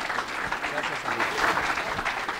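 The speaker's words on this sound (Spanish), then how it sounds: "un aplauso para que" A student forum audience gives a speaker a brief round of clapping, moderately loud and uneven, with some voices audible in the room.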